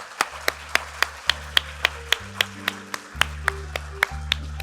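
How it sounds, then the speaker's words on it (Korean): An audience at the opening ceremony of a world Korean scientists' conference claps in a steady rhythm, each clap sharp and evenly spaced, over sustained musical tones. "큰 박수 부탁드립니다."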